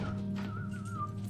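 A person whistles a short wavering tune, fairly quiet and close, alone over faint background hum.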